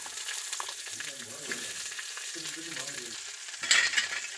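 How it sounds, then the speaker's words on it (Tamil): Onions sautéing in a pan for a spicy hotel-style chutney, with a continuous close sizzle and a brief louder burst of crackle near the end. "வெங்காயத்தையும் போட்டு நல்லா வதக்கிங்க"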